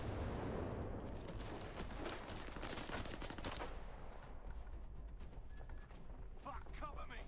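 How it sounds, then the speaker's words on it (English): Dense, continuous gunfire in S.T.A.L.K.E.R. 2 on PS5, rapid automatic bursts and shots packed together at close range, fading slightly toward the end. "Ryan himself trying to shoot at me."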